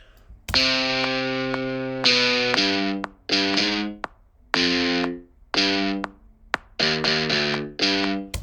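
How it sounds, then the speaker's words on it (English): Distorted hard rock guitar plays a slow, mournful melody in separate phrases with short pauses between them, loud and buzzing with no voices. "Let's use the hard rock guitar. Let's see what that sounds like from a sad melody."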